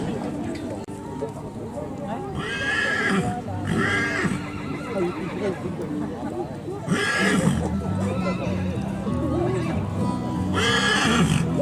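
A Breton horse whinnies several times, loud and close, while someone talks steadily underneath.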